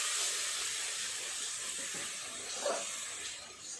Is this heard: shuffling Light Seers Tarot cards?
no